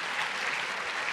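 An audience at an Ann Patchett book event claps in a short, dense burst of steady applause, fairly close and even throughout.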